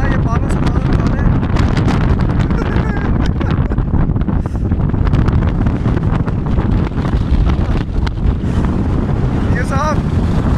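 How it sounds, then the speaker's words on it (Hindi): Strong wind roars continuously against the microphone on a mountain pass route, with loud buffeting gusts throughout and voices briefly audible beneath the rush. "इतनी शदीद हवा,"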